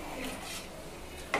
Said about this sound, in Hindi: चावल डाल दिए। देखिए अभी मिक्स कर रहे।